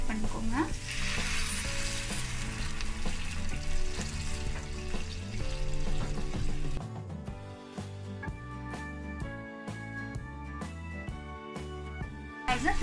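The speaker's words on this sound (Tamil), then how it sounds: "அது 3 மினிட்ஸ் ஆயிடுச்சு. நல்லா கொதிக்குது." Maggi masala noodle mixture with tomato sauce, chili sauce and water bubbles and sizzles steadily in a pan, a continuous frying hiss with faint clinks, while music plays underneath.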